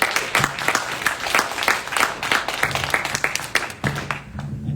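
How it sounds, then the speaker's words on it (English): Audience applause at a student town hall on rents and housing in Montgomery County, a dense steady clapping from a crowd in an indoor hall, lasting several seconds without talk. "So please give a round of applause."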